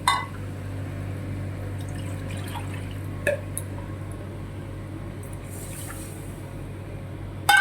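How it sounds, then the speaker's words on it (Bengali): Water goes into a pan of masoor (red lentil) dal in a home kitchen, a soft liquid trickle and scattered drips with a few sharper clinks, close and fairly quiet. "জল দিতে হবে।"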